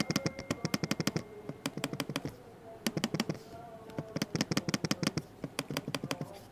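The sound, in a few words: clicking the trackpad of a Lenovo 300e Chromebook laptop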